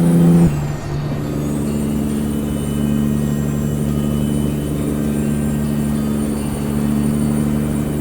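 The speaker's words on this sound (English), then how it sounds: "you can really hear the turbo on this one" A Caterpillar-engined truck in American Truck Simulator drones steadily with a rich low engine tone and a faint high turbo whine above it, a brief air-release hiss at the start, loud and close without talk.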